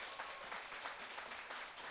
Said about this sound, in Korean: 대단하면 박수 한번 주시죠